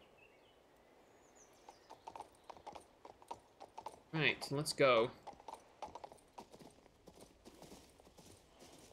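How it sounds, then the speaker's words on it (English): Rhythmic hoofbeats of a galloping horse in the video game King's Bounty II, mixed with clicking keys and a brief whinny, while someone speaks briefly. "My horse, my horse is amazing."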